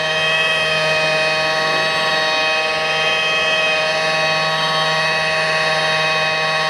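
Single-action car polisher running at about 1,000 RPM on 600-grit sanding marks, a steady loud whine with a fixed low hum and stacked tonal overtones, continuous and unbroken, with no talking.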